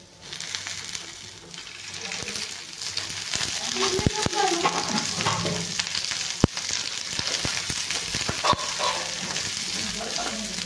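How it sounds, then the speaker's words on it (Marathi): Onion fries in a little oil in a pan for chole bhature, a moderate steady sizzle with occasional clinks and scrapes of stirring, close by, a few sharp knocks standing out. "आता हे आपल्याला थोडंसं तेल टाकून कांदा भाजून घ्यायचा आहे"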